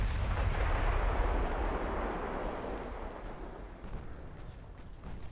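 Torpedo hits on warships in Ultimate Admiral: Dreadnoughts produce a deep, rolling explosion rumble that starts strong and slowly fades over several seconds, heard alone.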